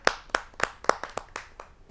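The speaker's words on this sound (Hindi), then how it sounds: "मैं आमंत्रित करता हूं उनको आप सबकी जोरदार तालियों के माध्यम से।" An audience at a Hindi poetry gathering claps to welcome a poet, a sparse scattering of sharp, separate claps heard close, with no voices over them.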